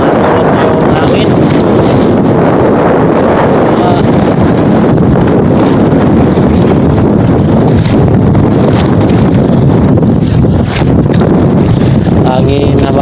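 Strong storm wind buffets the microphone in loud, continuous gusts, with a broad roar that swells and dips throughout; no talking is heard.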